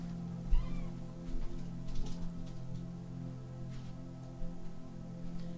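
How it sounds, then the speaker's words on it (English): Cats meowing and squabbling during a fight, intermittent yowls and short growling cries over a steady low hum, moderately close with no talking. "I don't know what it is about the felines, but they like to really fight."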